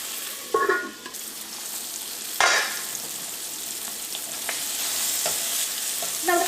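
Tomatoes and tamarind cook in a pan with a constant close sizzle, punctuated by several louder scraping and clattering stirs of a utensil against the pan.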